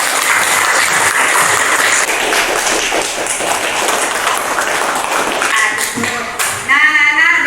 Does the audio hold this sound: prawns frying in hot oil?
no